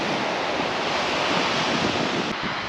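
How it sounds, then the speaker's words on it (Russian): Strong wind buffeting the microphone over sea waves on the Crimean coast, a dense, loud, unbroken roar with no voices. "Конечно, здесь тоже сильнейший, друзья, ветер."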